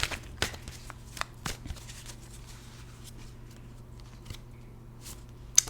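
Rider Tarot cards being handled and shuffled, with a series of crisp, close card flicks and slaps spaced irregularly over a quiet low hum, ending on a sharper snap.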